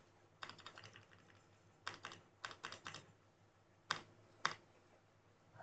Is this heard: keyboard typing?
yes